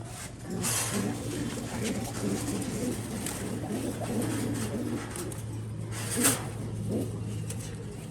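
Pigeons cooing inside a three-tier cage, a steady low murmur of overlapping coos running throughout with a few brighter flutters and clicks, fairly close.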